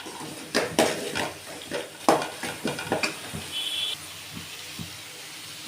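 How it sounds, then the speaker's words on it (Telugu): Turmeric is stirred into a curry mixture for Andhra-style pulusu rice, with a spoon scraping and clinking against the pan in irregular bursts over a light sizzle, the strokes growing sparser and quieter toward the end. "ఇప్పుడు పసుపు వేసుకుందాం బాగా మిక్స్ చేయాలి"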